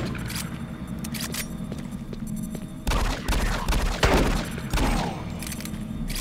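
Gunshots in Doom 3 BFG Edition, including shotgun fire, heavy booming blasts in the second half over a steady low game hum, preceded by lighter clicks and thuds.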